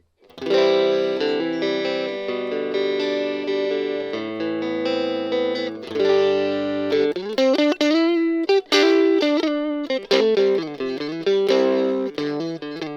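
Electric guitar on a clean tone through a Joyo JA-05G mini amp, with sustained chords and single notes ringing up close, then quicker picked phrases, with no talk over it.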